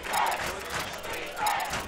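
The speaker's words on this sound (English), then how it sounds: "The chant of defense from the home crowd." A home crowd at a high school football game, Bergen Catholic at St. Joseph's Regional, chants "defense" in two loud, rising swells of massed voices.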